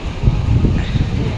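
Strong, cold winter wind in Hong Kong buffets the microphone with a loud, continuous low rumble and rustle, and no voices are heard.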